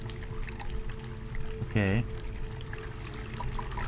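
Water in a video game runs steadily through a drain pipe with a constant rushing, trickling wash. A voice speaks briefly midway over the flow.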